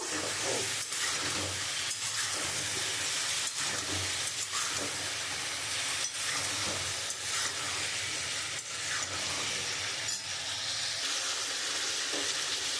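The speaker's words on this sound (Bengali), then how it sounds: "আমি মশলাটা দিয়ে একটু কষিয়ে নেব" Ground chilli and turmeric powder frying in a pan for a rohu fish curry with ridge gourd, a steady close sizzle broken by scraping stirs through the whole stretch, with no talking.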